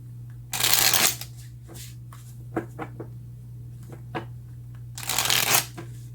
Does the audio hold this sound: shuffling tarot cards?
yes